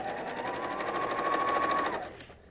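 A sewing machine runs steadily stitching strip-pieced quilt fabric, a close rapid mechanical whir lasting about two seconds before winding down and stopping, with no talking.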